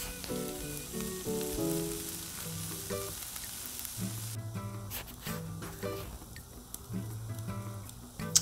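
Vegetables sizzling and frying on a 22-inch Blackstone griddle while being cooked for Philly cheese steaks, a steady close hiss with a few scraping stirs, and background music running underneath.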